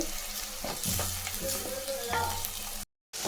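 Onions and tomato sautéing in a pan for a simple kurma, a continuous close sizzle with intermittent scrapes and stirring clatter, cut by a short moment of silence near the end.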